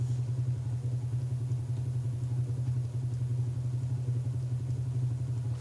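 A Bedini SSG replica motor runs with a steady, close electrical hum and a fine, rapid pulsing texture that stays even throughout, with no voices.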